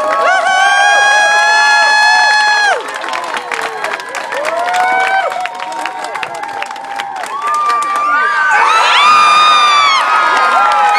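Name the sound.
crowd cheering at DockDogs jump event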